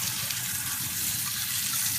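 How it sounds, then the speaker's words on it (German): Warm tap water runs steadily over raw beef as it is rinsed clean, a continuous even gush of running water with no talk. "Einmal Fleisch richtig waschen in diesem Warmwasser."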